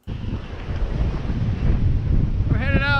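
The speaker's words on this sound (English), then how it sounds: "We're gonna hit some big waves here." Steady wind and rolling ocean surf at a beach, a loud continuous roar buffeting the microphone throughout, with a brief tonal whine rising near the end.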